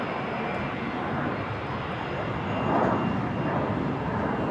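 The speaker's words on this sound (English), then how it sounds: "Jetstar 320 blasting off of 19 left." A Jetstar Airbus A320 jet takes off from runway 19 left at Brisbane airport, a steady broad engine roar that swells slightly partway through, heard from a distance with no talk over it.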